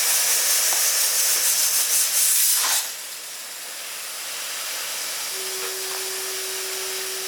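Water at a rolling boil in a pot on the stove gives off a loud, steady steam hiss that drops back after a few seconds to a softer, constant hiss, with no one speaking.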